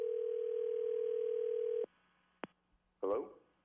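Steady telephone dial tone on a line before a prank call, a loud continuous hum lasting almost two seconds, then cut off, followed by a click and a brief burst of speech.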